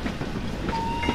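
A rumbling train rolls past with steady clattering noise filling the brief moment, a faint whistle-like tone drifting above it.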